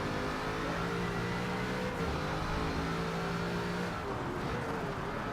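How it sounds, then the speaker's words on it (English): A Bugatti Chiron's supercharged engine in Forza Motorsport 7 drones steadily at high revs, its pitch climbing and shifting between gears, with a whirring, mechanical tone and no voices. "this car sounds more like a robot than a growling monster like the other one"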